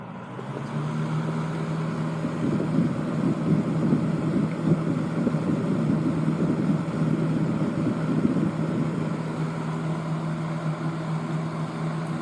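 A 1970s Lakewood 12-inch box fan with a busted blade runs on high speed, giving a steady, loud whirring hum with a constant low tone that holds evenly throughout.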